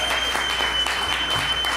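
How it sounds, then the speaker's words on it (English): An audience at a stand-up comedy show in a Detroit club claps in a brief, steady burst of applause, with a few voices and cheers mixed in. "Give him a round of applause"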